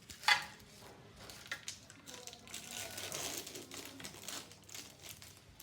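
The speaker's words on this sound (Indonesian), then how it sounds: "Setelah itu, buka pisau bedah steril. Lalu siring," Sterile scalpel and syringe packaging is torn and peeled open in a surgical skill lab, giving faint crinkling and crackling plastic and paper rustles at close range, with a few light taps.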